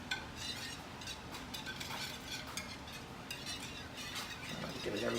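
A bowl of egg batter for pain perdu muffins is whisked with a utensil, making quiet, continuous scraping and clinking strokes with an uneven rhythm, close by and faint.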